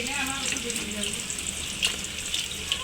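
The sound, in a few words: potato chops dipped in gram flour batter frying in hot oil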